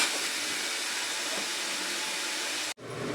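Onion sautés in a pan with a steady, loud broadband sizzle and hiss that runs without a break, then cuts off sharply near the end before faintly returning.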